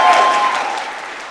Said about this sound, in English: So if you don't mind, can you clap for them?